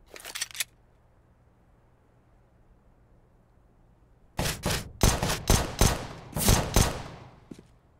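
Gunfire in Counter-Strike: Global Offensive on the Mirage map, a short burst at the start, then a quiet gap and a long run of rapid, loud shots in quick bursts.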